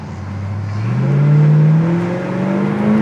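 A 1967 Pontiac GTO V8 with a 4-barrel carburetor revs up close, its loud engine note climbing steadily in pitch as it accelerates, with no voices.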